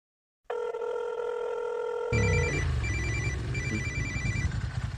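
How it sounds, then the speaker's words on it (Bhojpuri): A telephone rings with a bright, tonal ringtone that repeats steadily. Loud dramatic background music cuts in partway through and plays under the ringing. "हाँ, रवि के फोन।"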